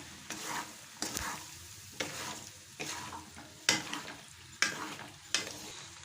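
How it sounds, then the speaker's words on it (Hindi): A dish being stirred and mixed in a pan, about seven evenly spaced scraping strokes over a quiet sizzle, close and soft. "अच्छे तरीके से करेंगे मिक्स"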